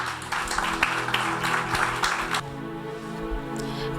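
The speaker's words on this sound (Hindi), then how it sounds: "ज़ोरदार तालियों में" Audience applause at a church youth meeting, clapping from a gathered crowd for about two and a half seconds under music and ambient hum, then fading into a sustained tonal backdrop.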